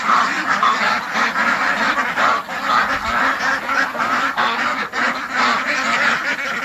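An imprinted pet poultry flock, mostly hens with two males, calls in a dense, continuous chorus of close, loud quacking and honking with no pauses.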